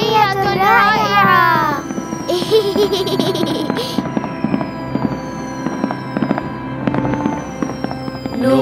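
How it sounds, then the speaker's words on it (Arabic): Cartoon fireworks bursting in a children's Islamic animated show, a dense run of bright crackles and pops layered over music and sung or spoken voices. "سبحان الله، ألعاب نارية رائعة."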